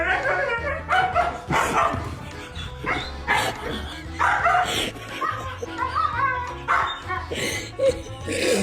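A dog barks and yips in a few short, loud, irregular bursts close by, with whimpering between them and people talking over it.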